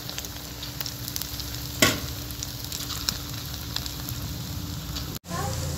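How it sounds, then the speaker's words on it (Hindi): A masoor dal preparation fries in a pan with a loud, steady sizzle. One sharp clatter comes near the start and there is a brief break near the end. "इसको बहुत अच्छे से फ्राई करना है।"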